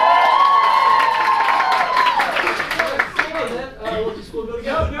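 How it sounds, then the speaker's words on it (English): Cheering and clapping from an audience greeting a Gryffindor sorting, a broad crowd roar with a sustained high tone early on, fading into scattered claps and shouts with voices talking over it. "They're cheering for you."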